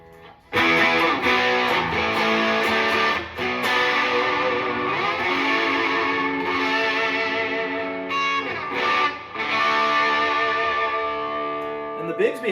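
An electric guitar on a 2011 Gretsch G6118T Anniversary Edition with Filtertron pickups and a Bigsby plays sustained, chord-heavy phrases through a ProCo Rat distortion pedal, loud, saturated and continuous with brief pauses.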